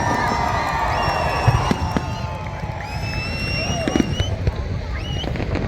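Large crowd cheering and clapping at the Ayalaan trailer launch show, a dense continuous roar with whistles and bursts of applause, loud and close throughout, with voices shouting within the noise.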